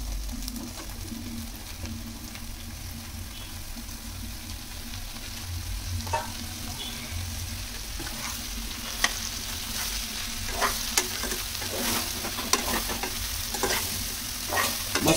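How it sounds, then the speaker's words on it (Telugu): Mushrooms from three packets stirred and fried over browned onions in a pan for a curry, a steady close sizzle with a low rumble beneath and scattered scraping clicks of the stirring spoon toward the end. "మష్రూమ్స్ వేసిన తర్వాత ఇలా మిక్స్ చేయాలి బాగా."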